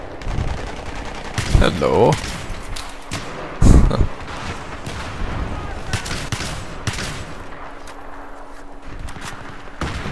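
Saiga 12K shotgun firing explosive frag rounds in a Battlefield 3 team deathmatch: a few loud booming blasts with ringing tails stand out over scattered quieter shots and thuds, and a brief voice is heard.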